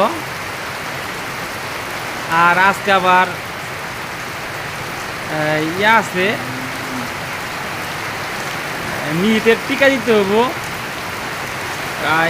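Heavy rain pours steadily on a village day, a dense, constant hiss filling the background while a person talks over it in several short stretches.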